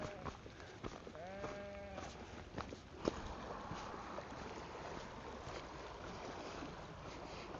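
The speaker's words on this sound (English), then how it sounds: "I didn't expect sheep to be grazing here." A sheep grazing on the exposed bed of the drained Ladybower Reservoir in England gives a single short, wavering bleat at moderate distance, set against a steady outdoor wash of wind and ambient noise.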